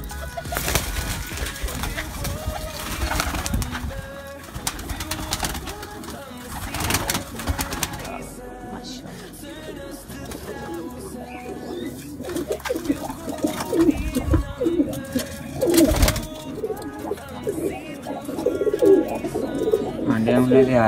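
High flyer breeder pigeons coo in a loft, low murmuring calls repeating steadily throughout while someone talks over them.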